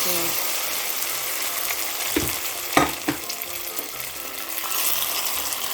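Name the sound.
frying, poured into pot with banana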